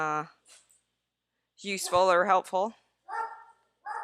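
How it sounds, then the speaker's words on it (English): A dog lets out a few short barks and whimpering yips in a quiet indoor room, with a person talking briefly before and between the sounds. "that's my dog that decided to at least be nice enough not to bark"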